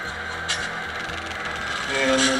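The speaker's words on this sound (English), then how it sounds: "What I like is you can actually hear the prime mover" The prime mover of a P2K SD7 model diesel locomotive with a Soundtraxx sound decoder idles in a low, steady rumble with a faint rhythmic chug, heard close and quietly for a couple of seconds.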